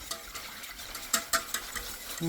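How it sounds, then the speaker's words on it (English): Whisk scraping and clinking through a mushroom Swiss pasta sauce in a pan, quick irregular strokes with soft sloshing and light metallic taps, close and moderately quiet. "You gotta keep whisking."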